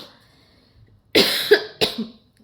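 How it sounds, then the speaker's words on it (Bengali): Two sharp, close coughs in quick succession after a brief quiet pause. "কাশি আসছে"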